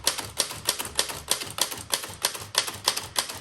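Rapid, evenly spaced keystrikes clack on a 1902 Smith Premier No. 2 typewriter, about two crisp mechanical strokes per second, close and steady with no voices.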